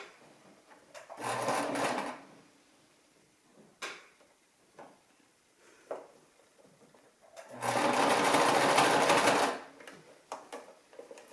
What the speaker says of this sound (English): just stitch this ribbon on. Gently, slowly stitch this